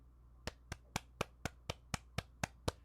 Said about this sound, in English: that was my hands clapping